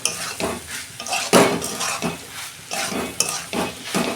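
Spice masala being stirred and sautéed in a pan with hilsa fish oil, close rhythmic scraping and clinking of a spoon against the pan over a hissing sizzle, with no voices.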